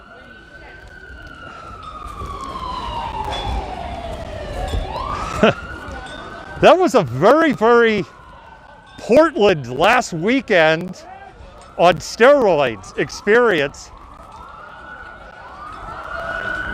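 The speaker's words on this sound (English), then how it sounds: "that's a fire truck sirens that you're hearing." Fire truck sirens wail and yelp loudly through a street protest march in Seattle, rising and falling in repeated bursts, with people talking and crowd noise throughout.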